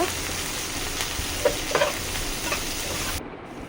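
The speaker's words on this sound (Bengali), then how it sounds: "প্যানের তেল পেঁয়াজ কাঁচামরিচ দিয়ে দিল" Sliced onions and green chilies fry in hot oil in a pan with a dense, continuous sizzle, close and even, broken by a few stirring scrapes before it cuts off near the end.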